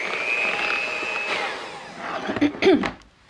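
An electric mixer whisks ingredients for an easy shrimp appetizer, giving a steady motor whine that fades after a couple of seconds, followed by a few brief clattering knocks.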